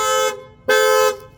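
Two loud, close blasts of a Volkswagen Passat B7 1.8T car alarm horn, a short one and then a longer one after a brief gap.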